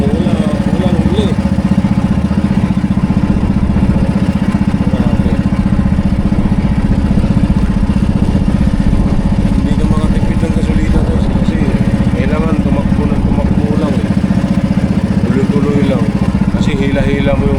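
A fishing boat's engine runs without pause, giving a steady, close mechanical drone with some clatter throughout. Faint voices are heard under the engine noise at times.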